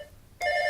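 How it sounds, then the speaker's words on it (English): A telephone bell starts ringing partway through, a bright sustained trill that jumps in after a quiet room hum. "have the phone ringing on your tape"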